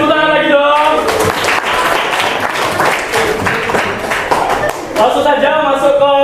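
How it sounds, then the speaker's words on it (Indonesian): Classmates applaud in a room, a dense burst of hand claps lasting several seconds, loud and close, with a voice speaking just before and after. "Tepuk tangan lagi dong."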